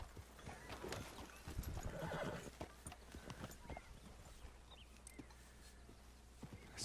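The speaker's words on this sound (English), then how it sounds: "Okay, that's his horse." A horse in the video game Red Dead Redemption 2 gives a faint neigh, and hooves clop in uneven bursts under a quiet bed of ambient sound.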